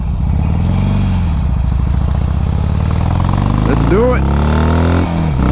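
A 2006 Harley Davidson 883 Sportster motorcycle's engine runs loudly and close throughout, rumbling steadily with a rising rev near the end, while someone talks over it.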